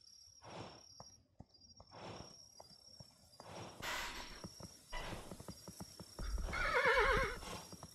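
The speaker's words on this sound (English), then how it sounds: "the horse is tired" Horse neighing and whinnying in the video game Kingdom: Two Crowns, with soft clip-clop hooves throughout and a loud, close whinny rising near the end over a busier background.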